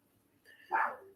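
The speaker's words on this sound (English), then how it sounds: "forgive my dog barking in the" A dog barks once, short and faint, in the background of an indoor room.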